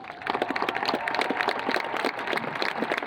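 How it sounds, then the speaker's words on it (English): Sustained applause from a high school graduation crowd honoring a retiring science teacher, steady dense clapping throughout at moderate loudness. "we'll applaud for them each individually"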